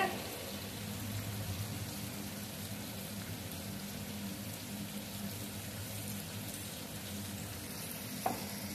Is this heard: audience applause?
no